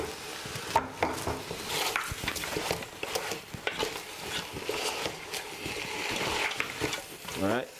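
Oxtail browning in a pan, with steady sizzling and frying crackle broken by repeated clanks and scrapes of stirring against the pan, close and busy throughout.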